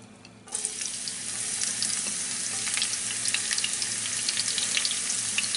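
Garlic and chili pepper hitting hot oil in a pan, a sudden burst of loud, steady sizzling and spitting that continues evenly.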